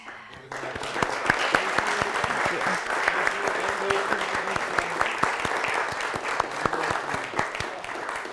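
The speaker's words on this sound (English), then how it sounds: "Possible round of applause for all our speakers." After an academic lecture, a crowd gives a sustained round of applause for the speakers. Dense, continuous clapping with sharp individual claps carries on evenly at moderate loudness, and faint voices sit underneath.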